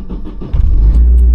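Car engine starting to run after sitting unused, warming up with a low rumble that swells after a brief rattle and settles into a steady, loud idle close by.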